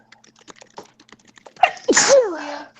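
A single loud, close sneeze bursts out after a stretch of faint background clicks and shuffling, with a sharp onset and a trailing breathy tail.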